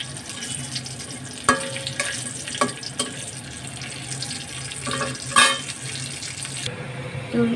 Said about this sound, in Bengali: এগুলো বাদামগুলো ভাজা হয়ে গেছে লাইট ব্রাউন, এখন নামিয়ে ফেলবো।